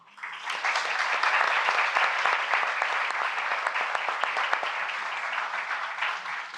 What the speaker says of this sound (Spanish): os pido un aplauso para hoy